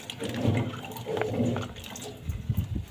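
Turnips are swished and rinsed in water, making splashing, gurgling sloshes in bursts that are close and fairly loud, with no talking.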